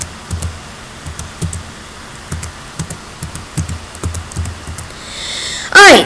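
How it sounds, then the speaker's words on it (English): Keys clatter on a computer keyboard as a password is retyped on a sign-in page, a loose run of close, separate taps with short pauses, ending in a brief louder burst of higher sound. "Just go ahead and I'm just going to retype it."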